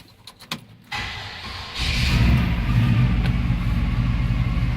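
A few clicks and a brief whir of the starter, then a 1969 Chevrolet C-10 pickup truck engine catches and settles into a loud, steady idle close by.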